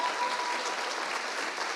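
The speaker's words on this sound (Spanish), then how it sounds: "que les demos un fuerte aplauso" An audience at a talk on Colombian political humour, a tribute to Jaime Garzón, claps in a dense, even burst of applause that holds steady for the whole short moment.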